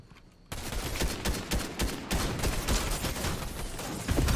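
Rapid bursts of automatic gunfire from an enemy player in Fortnite Battle Royale cut in suddenly and keep rattling loud and close in dense volleys.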